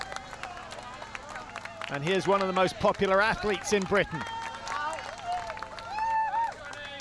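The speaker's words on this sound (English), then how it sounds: "Good applause." Spectators at the Blenheim Triathlon clap and cheer for a passing triathlete, a loud burst of applause rising over crowd noise while a commentator talks throughout.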